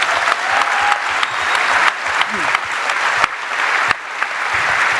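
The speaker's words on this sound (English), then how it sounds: "So if you could give him a round of applause." A crowd at a political rally-style gathering breaks into applause, a loud continuous wash of clapping from many people with a few sharp nearby claps and faint voices mixed in.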